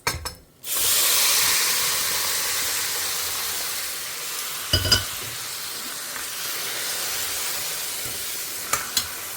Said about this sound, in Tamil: இப்போ நம்ம இந்த பருப்பை ஆட் பண்ணிடலாம்.